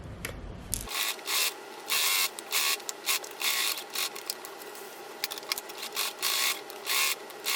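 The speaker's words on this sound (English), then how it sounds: "Drop your foot down and continue sewing." Sewing machine stitching the boxing of a zippered boxed pillow, running in repeated short bursts with brief pauses between, close and fairly loud, with no talking.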